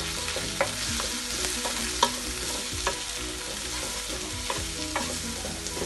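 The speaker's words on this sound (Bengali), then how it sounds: "আমি এখন একটু নাড়া দিয়ে নেবো" Baim fish dopiaza stirred in a pan: a steady moderate sizzle with regular soft scrapes and taps of the spoon against the pan, close and unaccompanied by speech.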